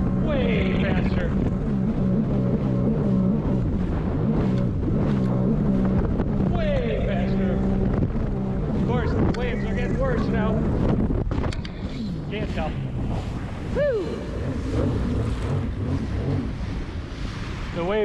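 A Sea-Doo Spark Trixx personal watercraft with an 8600 tune on pump gas runs flat out over choppy water, its engine droning loudly and continuously beneath heavy wind buffeting and splashing, with a brief dip near the end.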